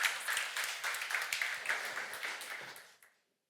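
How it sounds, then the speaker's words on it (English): An audience at the Women Empowerment Award 2024 ceremony applauds as a presenter is welcomed to the stage, a soft, distant wash of clapping that holds steady and then stops abruptly. "Give a round of applause."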